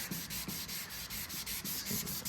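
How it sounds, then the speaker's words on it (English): Block sanding the clear coat on a car's paint, a close, steady rhythmic rasping scrub repeating in quick back-and-forth strokes with no talk. "It'll come out of it here if I keep working with the block sand here"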